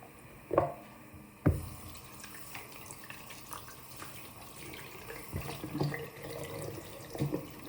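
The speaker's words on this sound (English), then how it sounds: "really I just turn the hot tap and then" Water runs from a tap into a sink, with a couple of sharp knocks near the start and splashing and clatter as the flow continues.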